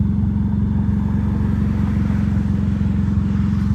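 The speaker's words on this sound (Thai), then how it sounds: "ท่อติดเครื่องอยู่นุ่มไหม" The exhaust of a turbocharged Toyota Camry 2.0 burbling softly at a steady idle, low and even throughout, with no voices.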